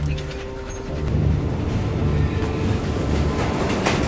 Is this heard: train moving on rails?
yes